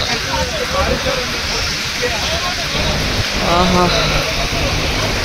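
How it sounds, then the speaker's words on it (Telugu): Heavy rain pours steadily at a roadside bus shelter on a city's outskirts, a dense, continuous wash of hiss with faint voices now and then underneath. "వర్షం ఎట్లా వస్తుంది? Heavy rain."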